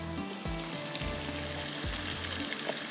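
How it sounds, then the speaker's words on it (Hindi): Onion and tomatoes fry in a pan, a continuous dense sizzle with a few intermittent low knocks as the pan is handled, steady and close throughout. "प्याज हल्की सी जैसे फ्राई हुई, मैंने टमाटर डाल दी"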